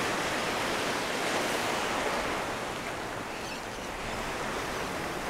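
Ocean surf breaks on a beach where someone is surf fishing for Spanish mackerel, a loud, constant roaring wash that swells and eases slightly over several seconds, with no voices.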